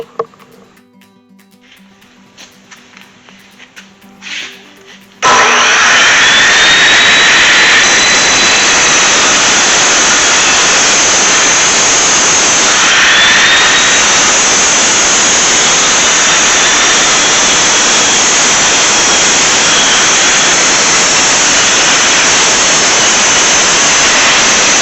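Chevrolet C10 pickup with an LS engine swap and freshly welded exhaust and muffler fires up after faint garage noises, then roars into a loud, steady idle that holds close and constant for the rest of the clip.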